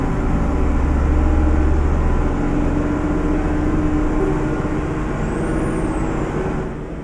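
A Volkswagen truck engine in Euro Truck Simulator 2 drones steadily at low pitch, a continuous rumble with a faint whine rising and falling near the end.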